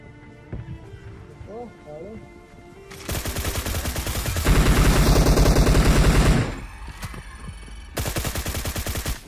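Gunfire in the mobile battle-royale game PUBG Mobile, heavy bursts of automatic fire with rapid, repeated loud cracks that swell in the middle and return after a short pause, with someone talking over the opening.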